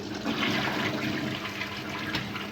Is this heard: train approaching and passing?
no